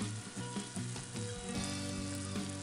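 Food frying in a pan in a home kitchen, a steady close sizzle and crackle throughout, with faint stirring and no talking.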